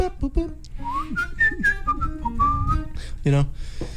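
A musician whistles a melody of gliding, sustained notes that rise and fall, alone and close, with a brief breathy burst near the end.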